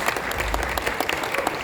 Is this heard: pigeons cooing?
no